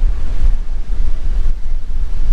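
Strong wind buffets the microphone at Bangsaen beach while surf rolls in. The result is a loud, continuous low rumble with no talking.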